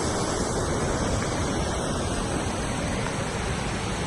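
Waterfall in Houaphanh Province, Laos, heard from a rickety bridge crossing it: a loud, steady, broadband rush of falling water that fills the whole clip without a break, with no voices.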